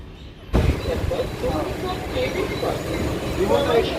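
Inside a nearly empty moving local train, a dense rumble and rattle of wheels and carriage starts suddenly and continues steadily at close range.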